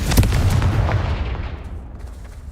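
A Confringo fire-blast spell goes off in the video game Hogwarts Legacy, a booming explosive burst with a few sharp cracks up front, then a rumbling tail that fades out.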